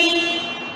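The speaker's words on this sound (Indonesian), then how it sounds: "Klaksonnya nyala. Oke, bunyi ya." A car horn blares in one loud, steady, close honk during an electrical check of the vehicle body.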